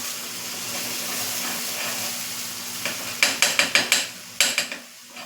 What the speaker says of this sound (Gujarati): આ રીતે કરી વઘારી અને આપણે જ્યાં સુધી તેલ જે આમાં ઘી નાખ્યું છે તેના પર બબલ્સ થાય ત્યાં સુધી આપણે ચટણી રાખવાની છે